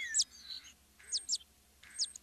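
Birds chirp in short, bright tweets that repeat in small bursts over a quiet background, fairly faint and close.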